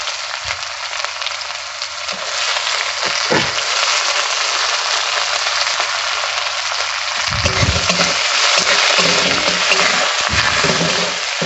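Loud, steady sizzling of onions frying in hot oil with cumin seeds, with occasional stirring scrapes and clatters partway through.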